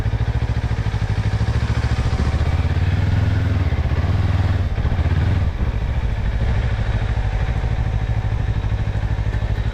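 A Kawasaki KLE 500 twin-cylinder motorcycle on a slippery offroad trail, its engine chugging loudly and steadily up close, with a brief swell in revs midway and some rattling clatter underneath.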